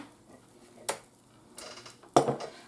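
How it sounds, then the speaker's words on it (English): A metal spoon is set back into a container while making freezer banana pancakes, giving a light clink, then a brief scrape and a sharper clatter close by in a quiet kitchen. "let me put my spoon back in here"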